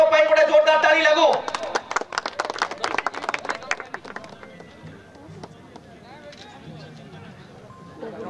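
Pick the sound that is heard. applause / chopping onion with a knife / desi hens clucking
applause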